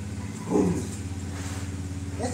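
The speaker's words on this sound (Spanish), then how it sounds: "Se va la moto." A motorcycle engine hums low and steady outside a metalwork shop where an ironwork door is being fitted, with a brief louder surge early on as it pulls away, then a continuing moderate drone.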